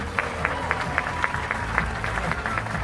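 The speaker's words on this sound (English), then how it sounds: "Let's give another round of applause for our judges." An audience at the Miss Universe 2017 preliminary competition applauding the judges, a sustained crowd of clapping with sharp, evenly spaced louder claps.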